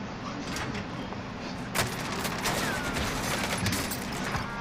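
Gunfire in Call of Duty Warzone, a string of sharp shots with a few distinct cracks over a dense, noisy background, fairly close and loud, missing its target.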